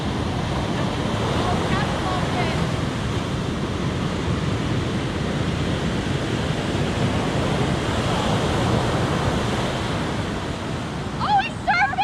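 Ocean waves break near the shore in a continuous loud roar, mixed with heavy wind buffeting the microphone, steady throughout.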